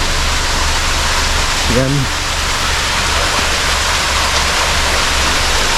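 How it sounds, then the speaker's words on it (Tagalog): A small waterfall near a cave in Japan, close to Kegon Falls, gives a loud, steady, broadband roar of rushing water throughout, with a single brief spoken word partway through. "May falls na maliit dito."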